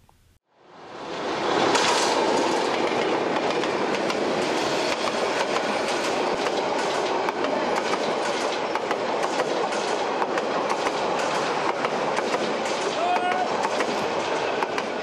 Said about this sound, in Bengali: এভাবেই গতি নিয়ে একের পর এক ট্রেন অতিক্রম করে স্টেশন, কিন্তু থামে না কোনো ট্রেন।